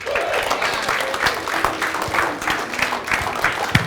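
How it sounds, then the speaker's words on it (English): An audience at a motivational talk claps to welcome Shaqir Hussyin to the stage, a steady round of applause with scattered sharper claps standing out near the front. "So big round of applause"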